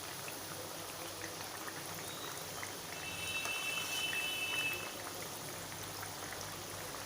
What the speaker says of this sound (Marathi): या वड्या आपण छान तांबूस रंगाच्या होईपर्यंत तळून घ्यायच्या आहेत.